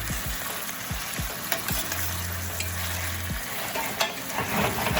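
Saltfish and tomatoes frying in a pan for Caribbean ackee and saltfish, a soft steady sizzle broken by repeated scraping stirs and clunks of the spoon, close and without talk.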